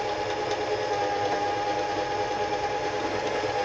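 An Elna Simple 113 sewing machine winding a bobbin gives off a steady, close motor whir with a fast mechanical buzz. It runs unbroken at even loudness, with no talking.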